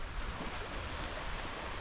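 Steady wash of riverside water under gusting wind, a constant broadband rush with no distinct events, heard outdoors with no voices.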